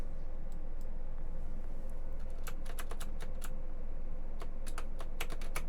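Close fingers type on a computer keyboard in irregular bursts of crisp key taps over a steady low room hum, with no voices.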